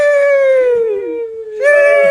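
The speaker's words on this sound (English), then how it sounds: "What the dog doing?" A dog howls in long, loud, drawn-out tones close by, sliding slowly down in pitch, breaking off briefly, then rising again into another sustained howl.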